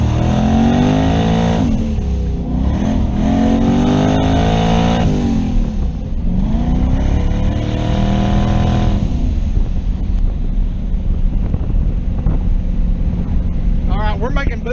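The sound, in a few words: turbocharged car engine revving and building boost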